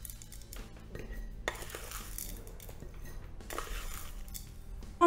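Chocolate chips pour into a jar on top of oat flakes for a cookies-in-a-jar mix, giving soft, quiet clinks and a scattered rattle that runs steadily for several seconds at close range.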